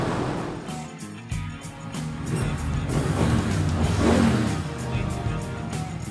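A Triumph Thruxton motorcycle rides through an airport, its engine a steady, loud drone with rising and falling surges and wind rush over the whole stretch.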